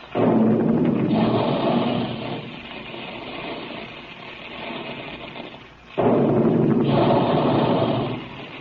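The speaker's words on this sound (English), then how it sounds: "There go the big guns now to remind you to have your delicious, nourishing puffed wheat and puffed rice breakfast regularly" Big guns fire as a sound effect in an old radio cereal advertisement: two heavy, booming blasts, each rumbling and fading over a second or two, separated by a quieter stretch.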